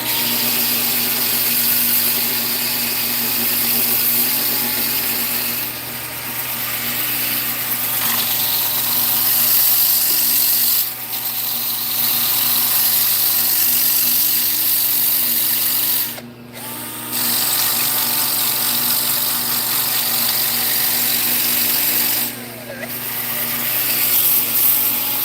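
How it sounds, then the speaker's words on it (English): A wooden bowl is sanded on a spinning lathe, giving a steady, loud mechanical whir with a high hiss. The sound holds for about 25 seconds, with a couple of short dips. "We'll do a little bit of sanding"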